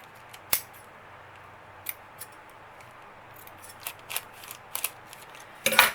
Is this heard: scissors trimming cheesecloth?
yes